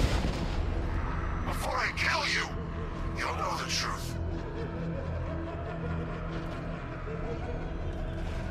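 In the Batman: Arkham Knight video game, heavy cannon fire and explosions boom through a low rumbling battle soundscape, with two bursts of cracking blasts close together early on and a steady engine drone underneath.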